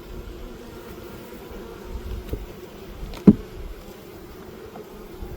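Honeybees hum steadily around an open hive on a hot day, a low continuous buzz with a few individual bees passing close, one sharp nearby bump near the middle.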